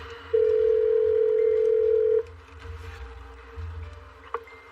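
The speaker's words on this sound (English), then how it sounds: "Let's see if I can call Courtney real quick." Telephone dial tone as a detective places a call, a loud steady tone lasting about two seconds that cuts off, followed by faint low rumbling and a small click.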